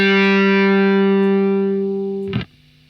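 A distorted electric guitar note with the other strings muted by the fretting hand, held clean and steady while slowly fading, then stopped with a short scrape and a brief burst of string noise.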